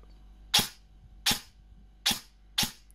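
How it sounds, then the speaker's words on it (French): Airsoft replica firing in binary trigger mode, its MOSFET-controlled gearbox (T238) letting off four sharp, evenly spaced shots, each a crisp loud crack alone over a faint background hum. "on appuie, ça tire, on relâche, ça tire"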